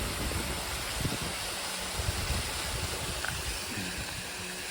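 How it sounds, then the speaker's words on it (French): A mountain waterfall high on the Rochemelon route, above 2000 metres, gives a steady broadband roar of rushing water. It stays constant and fairly soft throughout, with no voices. "Une cascade là."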